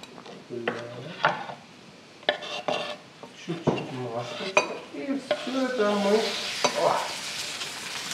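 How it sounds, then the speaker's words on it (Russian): Sliced bell pepper frying in a pan with a little oil, giving a steady sizzle that grows louder in the second half, mixed with stirring, scraping and clinks of a utensil against the pan. "Чуть-чуть масла. И все это мы поджариваем."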